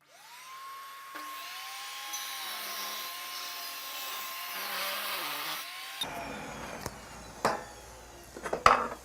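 A saw rips a half-inch-wide wooden strip off a board for a cutting board, set against a fence. It spins up with a steady whine for several seconds and then gives way to scattered knocks and clatter.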